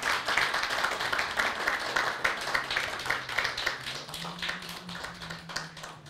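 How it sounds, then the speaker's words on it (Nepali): An audience at a book launch for "Children of the Eighties" claps steadily throughout, a dense, even patter of many hands filling the room at moderate loudness. "सबैले ताली बजाएर पुस्तकलाई स्वागत गरिदिनु होला।"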